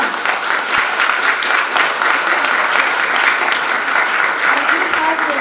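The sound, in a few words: applause from staff meeting audience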